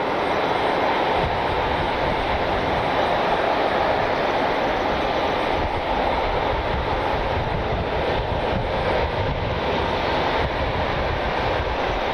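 A Spirit Airlines Airbus A320 jet airliner in the multicolored Skittles livery passes by with a steady, loud broadband engine roar that holds throughout without a clear rise or fade.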